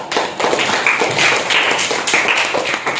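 Children clapping together in an Islamic studies classroom lesson, a close, steady burst of many hands lasting a few seconds with no talk over it.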